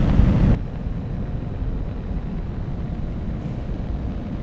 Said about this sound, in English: And there's that landing burn.